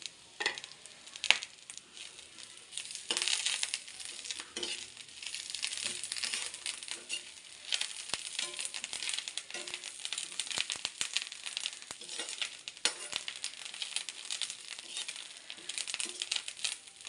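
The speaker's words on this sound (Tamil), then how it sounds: "இதுக்கப்புறம் கருவேப்பிலையை கொடுத்துருவோம்" Curry leaves sizzle and crackle loudly in a pan of fried coconut for chutney, a steady close-up frying hiss with scattered pops and occasional stirring scrapes, no talking.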